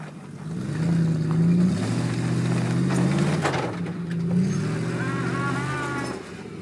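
A Chevy truck with a swapped 6.3 engine works its way onto a snowbank, its engine droning and revving steadily with rises and dips in pitch, close and fairly loud throughout.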